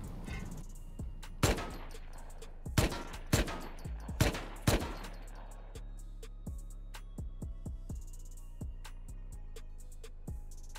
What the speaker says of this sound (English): I'm shooting this anyway